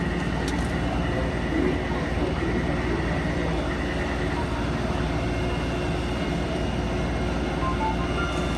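A refurbished Taipei Metro C321 train bound for Dingpu runs underground between Ximen and Longshan Temple stations, producing a steady, continuous rumble with a faint whining tone throughout, heard from inside the car.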